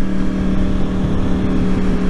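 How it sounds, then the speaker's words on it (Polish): Yamaha R1 RN22 motorcycle exhaust, a steady loud close engine drone with a strong low tonal hum, idling or cruising evenly without revving, no speech. "Bardzo ładnie chodzi wydech."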